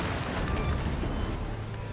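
A Jean Bart battleship fires a heavy gun salvo in World of Warships, a dense roaring boom with a long rumbling tail that fills the whole two seconds at close, loud range.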